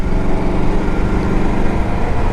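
2006 Yamaha Royal Star Deluxe V4 motorcycle cruising on a highway, heard as a loud, continuous engine drone mixed with rushing wind, steady and close throughout.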